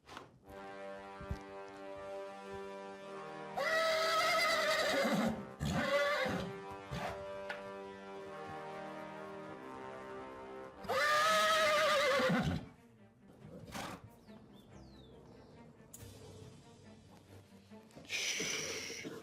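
A horse gives two loud, long whinnies with quieter snorts and shuffling between them, close by in a horse-training setting.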